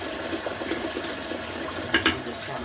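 Tap water runs steadily into a bowl of white rice being rinsed, a continuous close splashing wash with a couple of brief louder splashes near the end.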